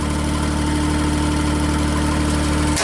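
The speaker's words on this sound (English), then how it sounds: "And it's idling smoothly." A JLG scissor lift's engine idles steadily and loudly with a constant low hum and rumble, unchanging throughout, with no voices.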